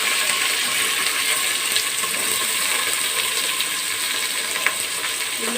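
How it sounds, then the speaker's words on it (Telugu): Onions sizzling in a pan with green chillies and spices for a methi mutton curry, a steady close frying hiss throughout with no talking. "బ్రౌన్ కలర్ వచ్చేదాకా వేగాలి ఉల్లిపాయలు మంచిగా."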